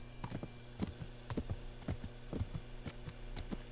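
A horse walks along a road in Kingdom Come: Deliverance, its hooves striking in a steady clip-clop of paired beats, close and clear over a low continuous hum.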